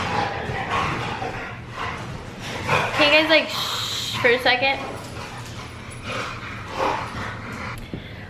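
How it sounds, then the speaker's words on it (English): Two bulldogs make loud snorting, whimpering and yipping noises indoors, with short bursts around the middle and near the end, while someone talks over them. "It's just I have two bulldogs and they're like really freaking loud."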